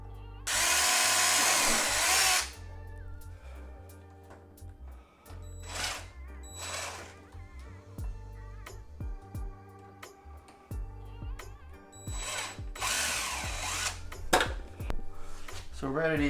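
A power drill bores through the other side of an Acura RSX (DC5) car's plastic bumper in a loud opening burst, then several shorter bursts with quieter handling clatter between them.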